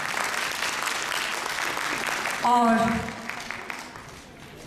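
Audience applause fills a music event, steady and sustained throughout, with a brief spoken word and a short tonal musical sound partway through over the clapping.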